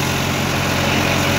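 A new Swaraj 963 tractor runs a Punni super seeder, its engine giving a steady, loud, continuous diesel drone with even low throbbing and no pauses.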